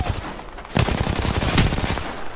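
Gunfire in the Apex Legends video game, a loud, dense run of rapid shots with sharp repeated cracks filling the moment and no voice over it.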